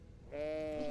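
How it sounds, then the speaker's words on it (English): A single sheep bleat, a short wavering nasal cry that starts abruptly after a brief quiet moment and holds clearly alone. "Sheep loves to eat grass."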